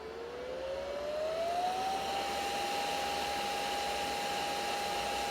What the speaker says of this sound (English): You can feel the air getting sucked down into the unit, through the unit, and out the fan.